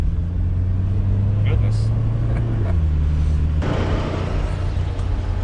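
A car out driving around, its engine humming steadily with low tonal drone shifting in pitch as it changes speed, a person speaking briefly over it and a louder wind-like rush late on.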